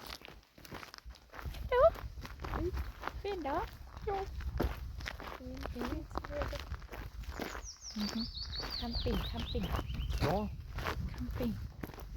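A horse walks beside a grassy roadside on a summer outing, its hooves clip-clopping steadily and close while someone talks throughout, with bird chirps near the end.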